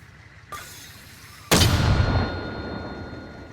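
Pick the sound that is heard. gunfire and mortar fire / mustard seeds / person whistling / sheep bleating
gunfire and mortar fire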